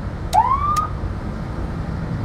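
An American police car siren in manual mode gives a single rising electronic whoop that sweeps upward and cuts off, loud and near, followed by quiet background.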